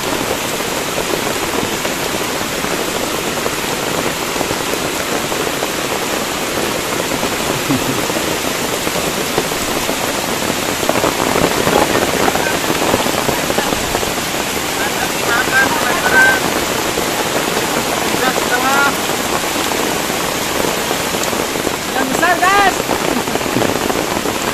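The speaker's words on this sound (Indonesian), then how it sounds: "Dan plus diguyur hujan." Heavy morning rain pours down beside a fast-flowing river at a fishing spot, a dense, loud, unbroken hiss of rainfall throughout with no pauses.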